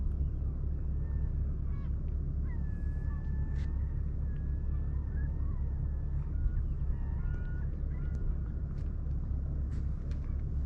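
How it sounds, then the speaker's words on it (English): Gulls call over Islesford Harbor on Little Cranberry Island, with scattered cries rising above a steady low rumble of wind and water. The birds sound distant and faint, calling intermittently. "we're being sort of serenaded by gulls"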